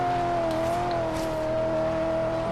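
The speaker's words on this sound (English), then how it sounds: "I am loving the sound of this engine." Rally-cross car engine in Forza Horizon 3, a loud continuous game engine note holding a steady high pitch with slight rises and dips as it pulls through a corner, close and alone without talk.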